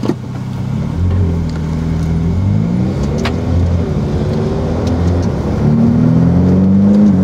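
A Ferrari F8 Tributo's turbocharged engine revs and climbs while the car drifts on a track, a loud, close, continuous engine tone rising and falling in pitch with no talking.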